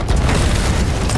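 Cannon fire from a boat in a naval video game, a single continuous booming blast with heavy low rumble lasting just over a second, loud and close with no talking.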